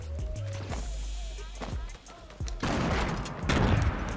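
Grenades going off in Fortnite Battle Royale, a run of loud game explosions and gunfire-like blasts building toward the end, with game music and effects underneath.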